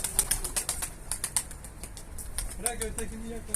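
Two escaped birds flapping their wings near a coop, a quick burst of wingbeats followed by a few more scattered flaps, with people talking nearby.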